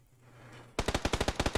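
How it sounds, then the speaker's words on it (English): Rapid burst of about ten automatic gunshots from the game PUBG, evenly spaced and sharp, ringing out loudly after a short quiet lead-in. "I just got shot through a window"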